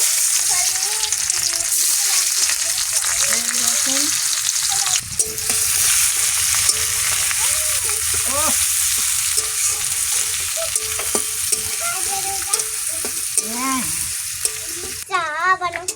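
Loud continuous sizzling of food frying in oil until reddish brown, with frequent stirring and scraping, persisting throughout without speech.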